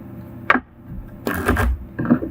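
Tarot cards being shuffled by hand, a quick riffle followed by a longer rustling burst and a final short flutter, close and clear with no talk.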